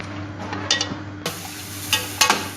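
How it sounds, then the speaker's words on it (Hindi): Vegetables for chicken chow mein sizzle in a hot pan while being stir-fried, with a steady frying hiss broken by several sharp scraping and clinking stirs. "इसको हम तकरीबन 3 से 4 मिनट के लिए इस तरीके से इसको हम करेंगे हल्का हल्का फ्राई"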